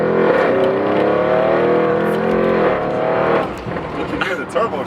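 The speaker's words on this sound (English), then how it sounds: "You can hear the turbos too." A 700 WHP Audi RS7 with a twin-turbo V8 revs hard close by, the engine roar swelling and then falling away, with people talking over it.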